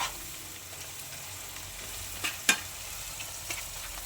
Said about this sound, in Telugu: బాగా కలుపుకొని నూనె అంతా సెట్ అయ్యే వరకు ఇందులో కలుపుకొని ఒక 5 నిమిషాలు మగ్గియండి